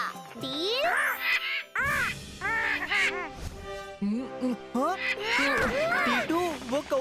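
A cartoon character's voice imitates crow caws with a series of nasal, rising-and-falling cawing calls. The calls come in quick, repeated bursts with short pauses between groups.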